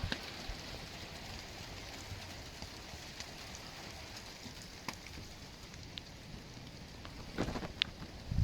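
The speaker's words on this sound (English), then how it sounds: "I've got like a hail blizzard going on here." Hail and rain coming down outdoors in a hail blizzard, a steady dense patter spread evenly across the scene with a few sharper close impacts near the end, no voices.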